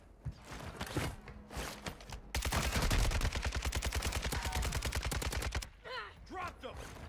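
Rapid automatic gunfire from a Warzone 2 firefight rattles loud and close in a dense sustained burst of shots, preceded by scattered shots and followed by fainter game effects.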